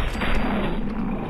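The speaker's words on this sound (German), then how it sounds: "Ich glaube, ich muss auf deinen Kopf schießen" A gun fires at a feral ghoul in the video game Fallout 4, a loud, short blast followed by a rumbling echo that fades out within about a second.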